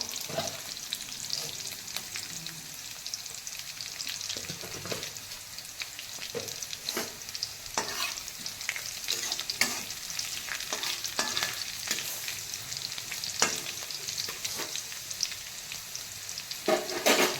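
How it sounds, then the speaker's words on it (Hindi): Cumin seeds fry in hot oil with a continuous bright sizzle and crackle, dotted with small pops and occasional stirring scrapes over a long stretch, no one talking. "तापर जीरा पकेबा।"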